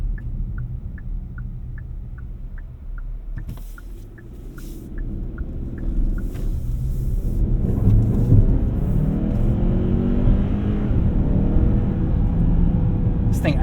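A 2025 Hyundai Santa Cruz pickup accelerates hard on the road, its engine rumble building steadily and staying loud and close, with a faint repeating chime early on.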